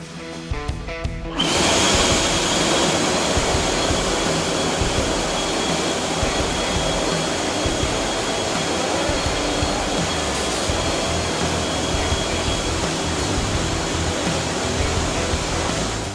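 Two leaf blowers, an Ego and a Stihl, roar loudly and steadily at close range after a brief quiet start, with a constant rushing whine and no talking.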